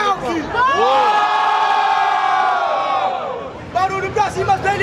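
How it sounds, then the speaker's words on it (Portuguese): Crowd cheering and shouting at a rap battle final, a loud sustained roar of whoops and yells that swells, holds for a few seconds, then breaks into scattered shouts. "Barulho pra quem gostou das rimas do Krauk"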